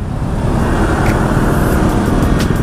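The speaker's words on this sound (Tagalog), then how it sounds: "Traffic dito sa EDSA, kahabaan." Steady, loud road traffic on EDSA, a heavily congested Manila highway, forms a dense continuous rumble of engines from cars and buses, heard from close by with no voices.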